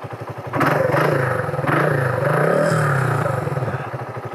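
A carbureted Raider 150 motorcycle engine runs close by with a rapid, rattly idle pulse that swells as the revs rise briefly, then settles back to a steady running chug.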